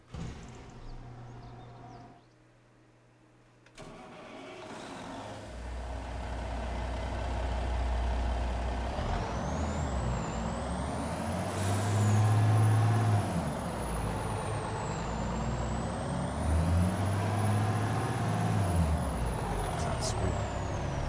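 A semi truck's diesel engine starts up after a near-silent pause, then runs loud and rumbling with rising revs and a whining high tone, close by in a barn setting; no one talks.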